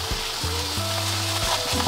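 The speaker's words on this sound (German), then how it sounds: "Während wir die Hähnchenbrust anbraten" Chicken breast fries in a pan with a steady, close sizzle and crackle, while a low electrical hum runs underneath throughout.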